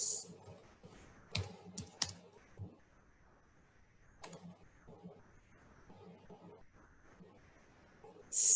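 Typing on a computer keyboard while editing code, a few scattered soft key clicks and taps with pauses between them, close and quiet, with no talking.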